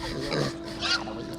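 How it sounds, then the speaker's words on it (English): Pigs oinking and grunting in the Warcraft Adventures video game, short snorting calls mixed with a faint voice over a steady background hum. "We're stuck with the pigs."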